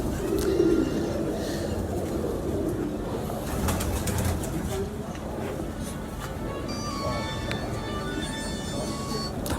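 Caged racing pigeons coo in soft, repeated throaty calls close by, over a busy background with a voice briefly talking.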